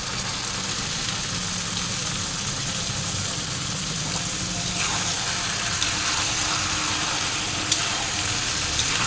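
Boiled young jackfruit tipped into a pan of frying spices, giving a steady close sizzle and wet frying hiss throughout, with a few faint clinks near the end.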